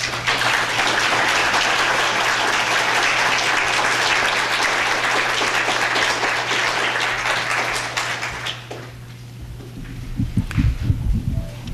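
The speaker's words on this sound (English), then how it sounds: "Well, a round of applause," Audience applause fills the hall, broad and sustained for about eight seconds under a steady hum, then fading into quieter room noise with a few scattered thumps.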